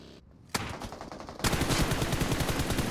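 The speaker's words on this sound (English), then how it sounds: "Very nice shots there." Gunfire in a PUBG Mobile esports semifinal match: a sharp shot, then from about a second and a half in a dense, sustained stream of rapid automatic bursts, loud and close, with no talk.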